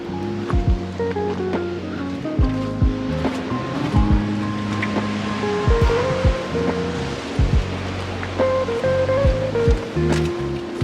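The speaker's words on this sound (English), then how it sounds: "The sea is all the way back there and we're getting sprayed here." Ocean waves crash and rumble at a rocky shoreline on Lanzarote, throwing sea spray, a continuous roar with repeated heavy surges and gusting wind close by.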